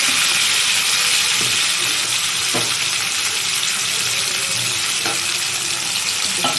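Onion, curry leaves and tomato sauté in hot oil for a fish curry, a loud continuous sizzle close by with periodic scraping stirs of a spoon against the pan, no talk.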